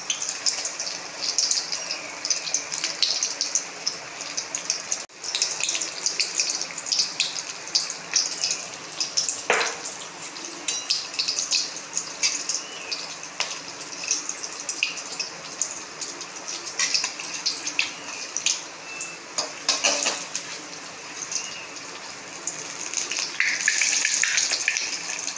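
Chilli chops, Bengali achaari lankar chop, fry steadily in hot oil with a continuous bright crackling sizzle that stays close and even throughout, broken by a few louder spits and bursts.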